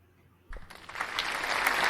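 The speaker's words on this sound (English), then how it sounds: "Have you ever had an applause like that, Chad?" A studio audience bursts into applause for a guest arriving on a kayak fishing show. The clapping starts abruptly after a quiet moment and swells quickly into a dense, loud ovation.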